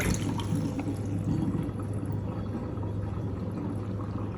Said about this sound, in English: I'm gonna throw off this water